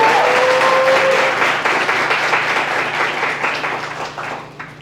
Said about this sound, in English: All right, clap it up one more time.